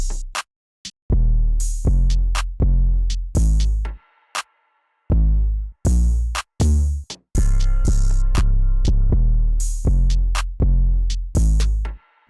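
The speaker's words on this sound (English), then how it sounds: "But next we have this accent snare." A crisp accent snare sample hits repeatedly in a programmed beat, sharp broadband cracks alternating with short gaps and dense bursts, loud and dry with no talking.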